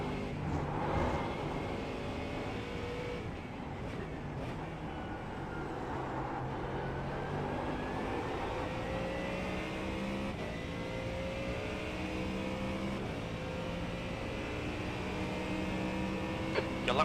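A Porsche GT3 race car engine drones steadily at the Nürburgring GP circuit in a racing video game, holding a sustained rising and falling tone through shifts, fairly close and unbroken, with faint talk underneath.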